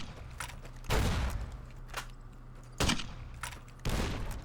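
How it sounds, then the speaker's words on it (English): Explosions from a grenade in the game Fallout New Vegas, with several heavy bursts going off in sequence, each a sudden loud boom trailing into rumbling debris over a low steady hum. "You take them all out with a grenade."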